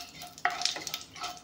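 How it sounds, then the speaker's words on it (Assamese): Panch phoron whole spices hit hot oil in a pan with a quick sizzle and a scrape of stirring, brief and fairly faint. "এয়া চাওক, পাঁচফোৰণখিনি অলপমান ভাজি লৈছোঁ"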